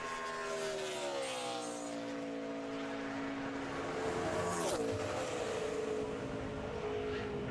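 A NASCAR Nationwide Series car on a 2008 qualifying lap at Lowe's Motor Speedway in Charlotte gives a sustained, far-off engine drone that rises and then drops in pitch as it sweeps past near the middle.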